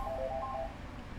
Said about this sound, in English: Apologies for the phone going off in the background